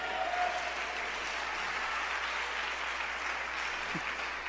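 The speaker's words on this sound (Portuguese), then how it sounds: "Aplauda o Senhor bem forte, querido." A church congregation claps together in sustained, dense applause, steady and fairly close throughout the short stretch with no clear speech.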